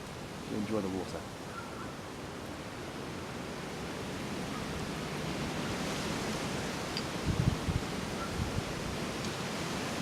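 Flowing river water rushes in a steady, even wash of broadband noise from start to finish, with what may be a faint voice near the beginning.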